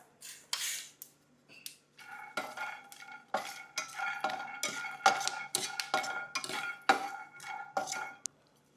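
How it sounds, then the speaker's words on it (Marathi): Peanuts roast in a pan over a low flame while a spoon stirs them, giving a string of light scraping clinks and rattles, close and fairly quiet, repeating irregularly. "एक 50 ग्राम शेंगदाणे आपण भाजून घेऊ मंद आचेवर"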